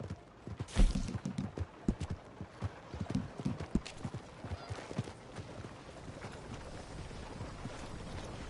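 Horse hooves clip-clop at a lively gallop in the video game Red Dead Redemption 2, beating in a rapid rhythm that fades slightly toward the end, with faint wind underneath.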